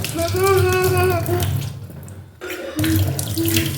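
Tap water runs steadily into a sink while a face is washed, close and continuous with a brief pause midway, under a singing voice and music playing nearby.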